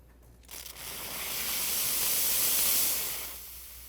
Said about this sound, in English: The dress fit nozzle delivers a concentrated burst of steam,